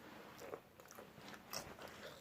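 Crunchy sweet potato chips are bitten and chewed close to the mic, with a few sharp crisp cracks followed by soft, quiet mastication.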